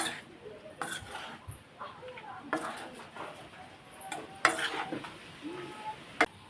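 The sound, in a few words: mixing mango pickle with salt and oil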